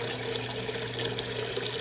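Water pours from a tap into a bowl in a brief, steady, close stream with no voices.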